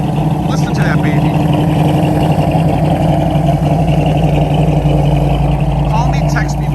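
Modified 1970 Dodge Challenger, originally a 340 car, its engine idling with a loud, lumpy, continuous rumble close by, while faint voices come through at the start and end.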